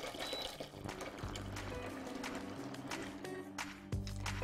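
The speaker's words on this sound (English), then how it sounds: "And then I'm going to put some freshly boiled water in," Freshly boiled filtered water poured into a saucepan for a turmeric and ginger jamu tonic, a continuous splashing, gurgling stream with a few clunks, close and fairly loud, no talking.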